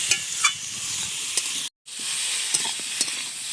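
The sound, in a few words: catla fish sautéing in pan with salt and turmeric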